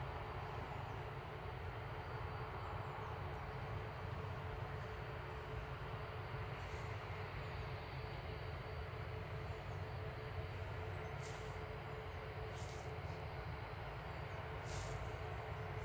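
An Airbus KC2 Voyager on short final approach into Manchester Airport gives off a steady, broad, distant rumble and roar that holds evenly throughout, with no talk over it.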